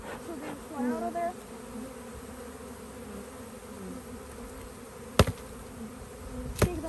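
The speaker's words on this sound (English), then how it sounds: "bees flying around." Honeybees buzzing around a nuc beehive, a soft, steady drone of many wings heard close, with a few louder passes and two sharp knocks near the end.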